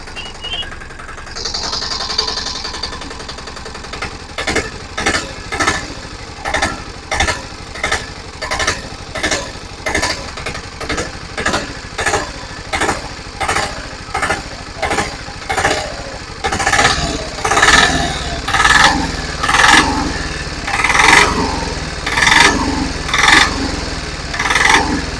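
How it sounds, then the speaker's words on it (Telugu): A repaired Mahindra Alfa auto rickshaw engine runs on its own, close and loud, with a rhythmic clattering pulse roughly once a second that grows stronger toward the end. "ఇప్పుడు ఈ యొక్క బండిని మనం స్టార్ట్ చేద్దాం ఫ్రెండ్స్. బండి స్టార్ట్ అయిపోయింది."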